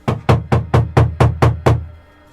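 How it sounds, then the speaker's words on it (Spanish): Heavy knocking on a door as a horror-story sound effect: eight loud, evenly spaced blows in a steady rhythm, close and alone, the last one ringing out into silence. "Sin recibir respuesta, solo el aumento de golpes en la puerta."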